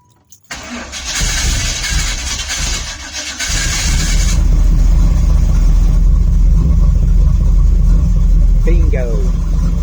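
A Pontiac Trans Am engine cranks over, catches and settles into a loud, steady rumbling idle close by. Voices can be heard near the start.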